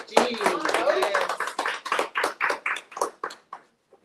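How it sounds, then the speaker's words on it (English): An audience at a community conference applauds warmly. The clapping is dense and lively at first with some voices mixed in, then thins into a slowing run of separate claps that fade out near the end. "So let's give a warm round of applause for Gary, Coach G."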